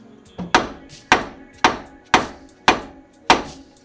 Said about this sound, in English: hit it with my hammer